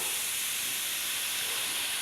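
A steam engine's burst safety valve lets out a loud, steady hiss of escaping steam that continues unbroken and close by.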